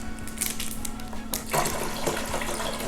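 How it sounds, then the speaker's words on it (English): Water poured into a container for a cinnamon apple wine made from frozen fruit concentrate, a close, loud splashing and gurgling pour that starts softly and grows fuller partway through, with no talking. "next thing I'm gonna do is I'm gonna add some of this water"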